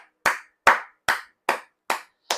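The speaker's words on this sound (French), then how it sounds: "je vous applaudis encore" Six sharp, evenly spaced hand claps from one person, close and distinct with silence between each clap.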